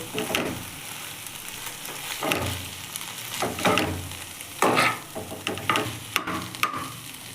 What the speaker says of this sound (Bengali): এরপর আমি অ্যাড করব ম্যাগি। দিয়ে আমি ভালো করে মাখিয়ে নেব, মশলাটা দিয়ে ফ্রাই করে নেব।